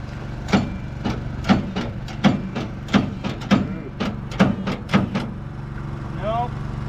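Stuck engine on an old skidder that sat fifteen years, being forced to turn: a series of roughly evenly spaced sharp clunks and knocks, close and moderately loud, over a low steady rumble, with a brief voice near the end.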